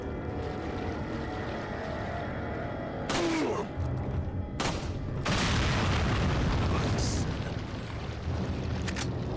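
Heavy booms from bombs exploding in the Resident Evil 4 video game, several deep blasts rolling over a dense, continuous rumbling background with crackling debris.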